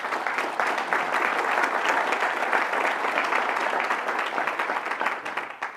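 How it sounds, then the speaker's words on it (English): A seated audience at Moreno Valley's State of the City address rises into a sustained round of applause for Rick, broad steady clapping throughout that tapers off near the end. "Would you please stand for a well-earned round of applause?"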